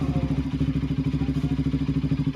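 A Kawasaki NS200 FI motorcycle engine idles while warming up, with a rapid, even, pulsing putter heard close and steady, alone with no talk.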